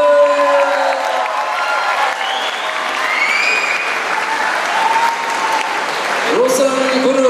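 Audience applause fills a worship concert hall in Pokhara, a steady dense clapping from a large crowd that continues throughout, with a few whistles and a brief voice rising over it near the end.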